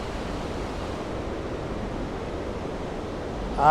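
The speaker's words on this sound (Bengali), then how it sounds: "এ দেখেন অপরূপ ঝর্ণা জলের ধারা আমরা দেখতে পাচ্ছি" A waterfall inside Jiuxiang cave roars as a steady, dense rush of water heard close up, unbroken and even throughout.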